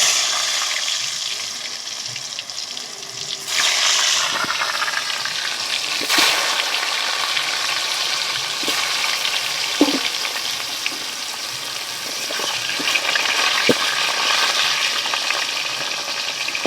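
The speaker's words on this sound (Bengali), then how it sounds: "গরম হয়ে গেছে, আলুগুলো এখন আমি ভেজে নেব।" Potatoes fry in hot oil in a heated kadai, a steady close sizzle and crackle that runs alone throughout, with a few brief clinks and stirring touches.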